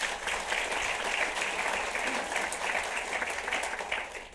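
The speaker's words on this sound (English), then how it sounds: "Give them a round of applause." Audience applause at a city's state of the city address in Torrance, California, steady sustained clapping from a sizable crowd throughout.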